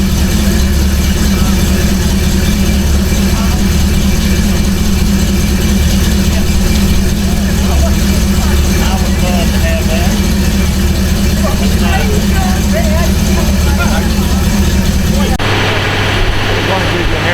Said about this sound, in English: This is a Chevrolet. Listen to that baby hum.